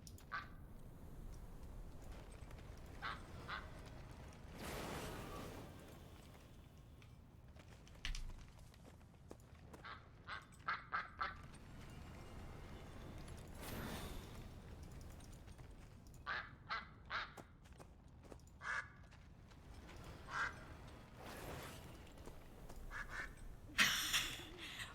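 Repeated duck quacks triggered by clicking on a duck in World of Warcraft, coming in short bursts at irregular intervals over steady game background ambience, with no talking.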